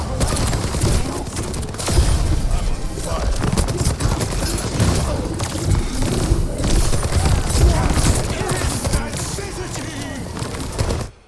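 Soldier gunfire in an Overwatch-style shooter aimed at Ashe, dense rapid bursts mixed with game effects and chatter, loud and continuous with a couple of brief pauses.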